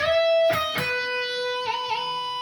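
Electric guitar plays an 80s rock riff: a sustained note, two sharp picked attacks, then two quick whammy-bar taps that make the ringing note wobble in pitch. The guitar is heard alone, close and clear.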